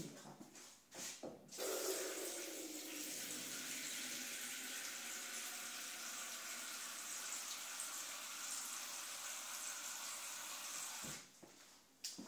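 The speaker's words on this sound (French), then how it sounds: "Déjà je vais mettre de l'eau, donc on a dit 400 ml." Tap water runs into a small pot, filling it with about 400 ml: a steady, close rushing gush that holds for roughly ten seconds before cutting off, with brief handling knocks at either end and no voices.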